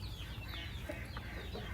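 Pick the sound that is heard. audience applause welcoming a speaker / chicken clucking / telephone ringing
chicken clucking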